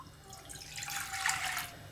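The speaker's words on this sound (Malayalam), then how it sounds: "ഇതിലേക്ക് നമുക്ക് വെള്ളം ഒഴിച്ച് കൊടുക്കാം" About two cups of water are poured into a kadai, a faint, soft splashing stream that swells slightly midway through a brief two seconds.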